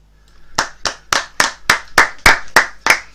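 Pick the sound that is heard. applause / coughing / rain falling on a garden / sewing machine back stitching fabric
applause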